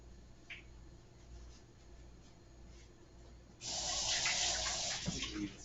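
Tap water gushes steadily into a kitchen sink while raw liver is rinsed under the stream, starting suddenly partway through after a quiet stretch and staying close and fairly loud.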